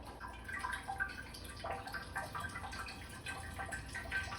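Water trickling through the coolant thermostat of a 2002 Land Rover Discovery 2, a continuous soft splashing and dripping trickle that stays fairly faint and steady, with no voices.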